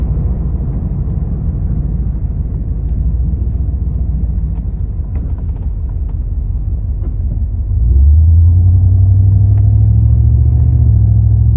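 A car driving along a road, with a steady low engine rumble and road noise throughout that grows louder and deeper partway through, as if accelerating. No speech.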